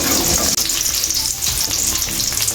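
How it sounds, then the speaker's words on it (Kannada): Garlic frying in a hot pan gives a loud, steady, close sizzle that continues throughout. A brief dip and a few stirring scrapes break it up, and no one speaks. "ಇವಾಗ ಬೆಳ್ಳುಳ್ಳಿ ಫ್ರೈ ಮಾಡ್ತಾ ಇದ್ದೆ"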